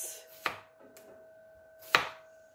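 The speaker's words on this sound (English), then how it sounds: "So now I'm cutting the cucumber" Knife chopping cucumber for fruit-infused detox water: two sharp, distinct cuts about 1.5 seconds apart, with a faint tap between them, close and fairly quiet, no voices.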